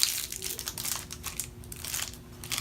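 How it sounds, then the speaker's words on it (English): Plastic and paper packaging of an 18 gauge injection needle is peeled open up close, giving a soft, irregular crinkling and crackling for a few seconds with no voices. "We can start off by peeling open your 18 gauge needle"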